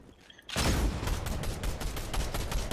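A dense burst of rapid gunfire erupts after a short quiet opening, loud and continuous with repeated sharp cracks for the rest of the moment.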